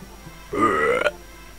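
A character in the Final Fantasy 6 video game lets out a single loud, drawn-out burp lasting about half a second, with nothing else audible around it.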